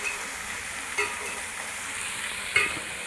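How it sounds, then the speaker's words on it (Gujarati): Salted American corn kernels are stirred in a pan with a soft, steady sizzle. A spoon scrapes against the pan twice, with sharper knocks standing out from the gentle frying hiss. "આ રીતે નમક નાખી આ રીતે હલાઈ નાખવાનું"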